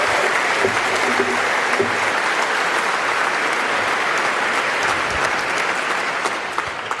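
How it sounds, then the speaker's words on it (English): Sustained audience applause for a debate panel at a live public debate on copyright and piracy, a dense steady wash of clapping from a large crowd that holds evenly throughout and eases slightly at the very end. "And I'd ask you to continue your applause for a moment more for the panel, because that was terrific."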